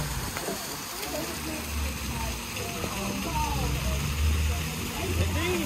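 Continuous rushing water from a small waterfall on a mini golf course, a steady splashing hiss with low rumble throughout, no voices over it.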